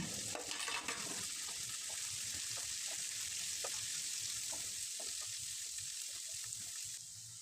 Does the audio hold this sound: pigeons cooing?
no